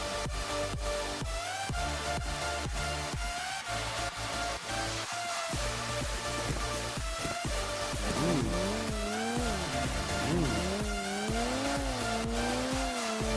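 Engine of a vehicle driven in PUBG on the Livik map, a continuous loud drone with pitch swells and tire-squeal-like tones, layered over dense in-game sound with no talk.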